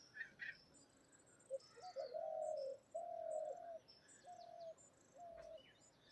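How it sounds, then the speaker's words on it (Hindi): Birds call in a jungle with a large old peepal tree: a soft dove-like cooing repeats in sustained phrases over faint chirps and high tweets, all distant and quiet with no talking. "अलग अलग पक्षियों की आवाज सुन सकें।"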